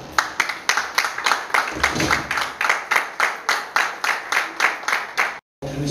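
Audience at an academic talk on standardising the Ékang language clapping in a steady rhythmic beat, each clap distinct and regular, before a brief cutoff.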